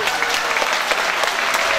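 A reunion gathering claps to welcome guests with flowers, a dense, steady wash of applause from a crowd filling the whole moment.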